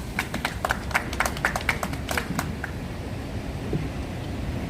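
Scattered applause greets a speaker at an outdoor press conference, a burst of claps over the first two and a half seconds that thins out, leaving steady wind and background noise.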